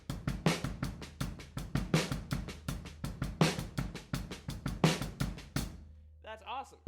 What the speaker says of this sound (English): regular paradiddle on the right hand first, and then the left-handed inverted paradiddle would sound like this